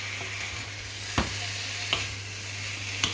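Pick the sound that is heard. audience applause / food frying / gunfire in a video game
food frying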